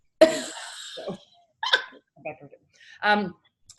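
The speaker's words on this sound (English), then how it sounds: "we might get some barking here. There's a delivery person out front, and Fiona is not entirely certain she wants" A dog barks at a delivery person out front, several short sharp barks in separate bursts, fairly close and loud, with a cough-like rasp to some of them and no speech around them.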